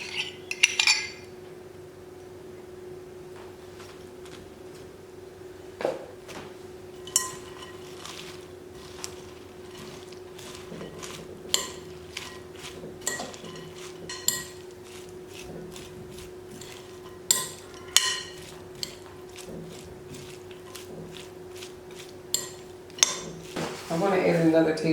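Coleslaw being stirred with mayonnaise in a bowl, heard as a steady run of clinking utensil strikes against the dish, close and fairly regular, over a faint background hum.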